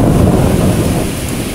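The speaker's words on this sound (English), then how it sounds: "I just heard the thunder right there." Loud, close thunder rolls and rumbles continuously through a heavy thunderstorm in the Bronx, New York City, with steady rain hissing underneath and the rumble easing slightly toward the end.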